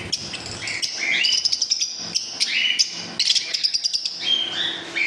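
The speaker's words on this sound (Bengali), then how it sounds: "দোকানে তো পাখি আছে।" Pet birds in a bird shop chirp and tweet in quick overlapping bursts, bright, close and fairly loud, with busy repeated calls filling the space and no talking.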